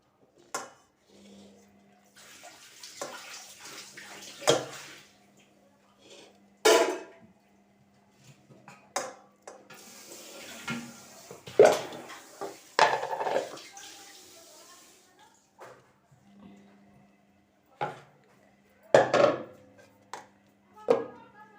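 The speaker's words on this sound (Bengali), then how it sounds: "একদম কড়াই উল্টিয়ে নিয়ে নিচ্ছি উচ্ছে" Bitter gourd is scraped out of an upturned kadai, with sharp metallic clinks and knocks of pots and cutlery spaced irregularly, close by, between stretches of quiet and someone talking.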